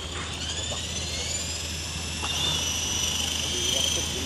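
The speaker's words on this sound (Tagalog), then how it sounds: "Dito the helicopter crash," A large RC toy helicopter flies outdoors with a steady, high electric whine and a low motor hum that swells slightly toward the end. No crash impact stands out.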